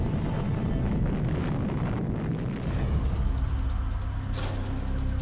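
A giant explosion from an asteroid impact rolls on as a dense, continuous roar and deep rumble, loud and sustained throughout with a hissing upper layer, with no voices.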